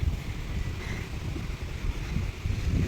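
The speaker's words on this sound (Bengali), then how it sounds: "খুব সুন্দর হাওয়া দিচ্ছে" Steady wind roars and buffets across the microphone in low gusts, with no talking.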